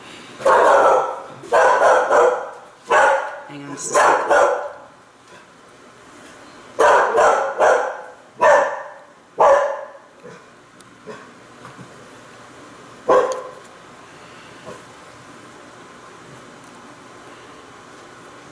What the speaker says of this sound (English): And I will apologize for my dog.